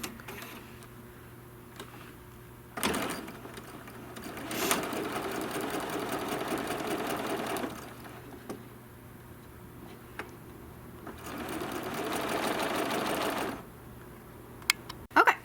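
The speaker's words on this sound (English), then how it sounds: "we're just going to sew a 1/4 inch seam on both sides" A sewing machine stitches a quarter-inch seam on a Kimberbell Happy As A Lark trapunto pillow, running in two long steady bursts with a short pause and light handling sounds between them.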